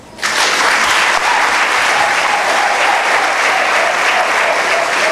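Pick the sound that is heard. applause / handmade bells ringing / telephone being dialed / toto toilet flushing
applause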